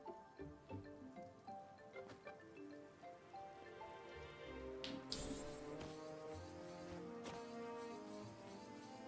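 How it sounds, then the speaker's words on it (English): Soft, steady rain patters faintly beneath gentle sustained music in Alabaster Dawn, with a few brighter splashes midway. "It just started raining."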